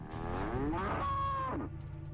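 A single cow lets out one long, rising and falling moo, loud and close, over a low steady background hum.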